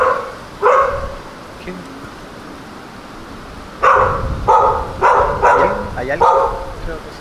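A dog barks repeatedly at the entrance of an abandoned hotel on Isla Mujeres, a single bark early and then a run of loud, close barks, with people talking and calling out around it.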